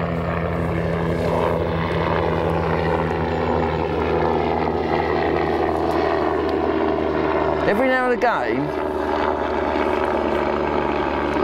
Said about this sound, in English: Into a fish while a helicopter goes over.